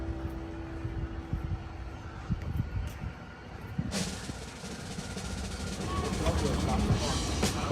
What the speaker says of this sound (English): The train is running.